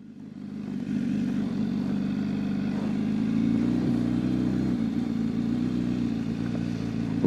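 BMW S1000RR sport motorcycle engine running steadily at a low, even drone, close and continuous with a slight swell midway and no talking.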